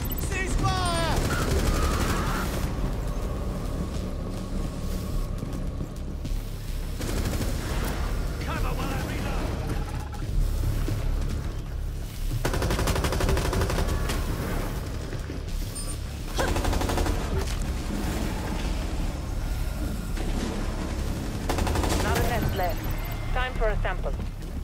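Gunfire in the video game Rainbow Six Extraction: repeated bursts of rapid automatic fire and sharp shots, loud and sustained across the whole stretch, with voices calling out between the volleys.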